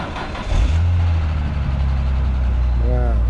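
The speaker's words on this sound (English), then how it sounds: "Wow, quiet. It starts right up." BMW ZHP engine starts and settles into a steady low idle, close and fairly quiet, with people talking over it.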